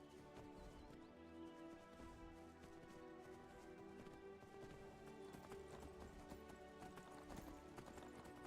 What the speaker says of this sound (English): Now we just take this horse to Whiterun.